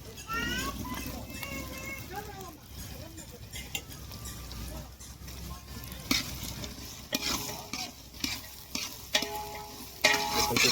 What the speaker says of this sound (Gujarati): ખીચડીમાં આપણે બટેકા, રાઈ, હળદર, મરચું, મીઠો લીમડો, કાંદા બધું મિક્સ કરીને પેલો ફેઝ આપણે પાર કરી દીધો છે